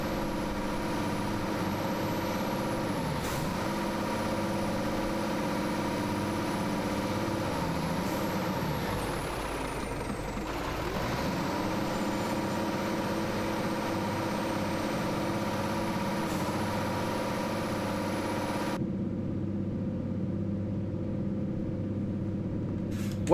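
A truck engine idles steadily in its lowest gear in a truck simulator game, a loud, constant low drone with a brief dip partway through and a faint whine above.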